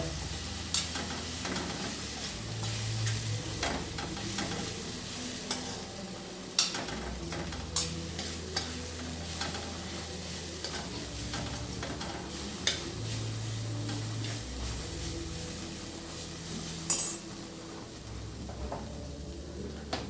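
Masala cooks gently on low heat while corn kernels wait to go in: a soft, continuous sizzle runs throughout, broken by occasional sharp ticks and scrapes of a stirring spoon against the pan.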